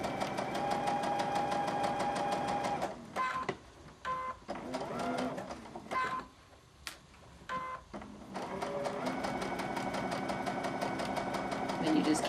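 A sewing machine stitches fabric in a quilting setting, a fast steady mechanical whirr and chatter that runs loud and close, breaks off into short stop-start bursts midway, then resumes continuously.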